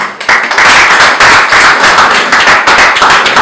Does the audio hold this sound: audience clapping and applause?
yes